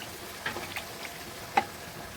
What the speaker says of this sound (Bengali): আমাদের একটু ডাটাগুলো দিয়ে দিলাম ডাটাগুলো একটু কষিয়ে নেব